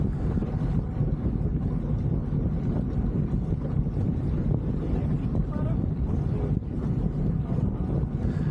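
A steady low engine drone from a sailboat motoring in calm conditions along the Sound of Mull in Scotland, with wind buffeting the microphone continuously throughout and faint voices underneath.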